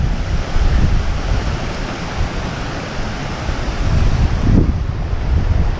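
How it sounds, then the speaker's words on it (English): A small waterfall in Assynt, Scotland, gives off a continuous broad rushing roar, steady and full, with some wind buffeting and no voices. "a smaller waterfall but beautiful."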